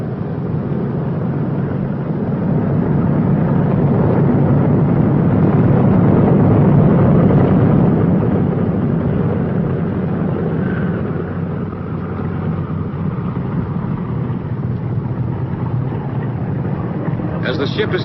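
The engines of a B-29 bomber drone heavily as the plane taxis along a runway. The low, steady rumble swells slightly in the middle and stays loud and continuous for the whole stretch.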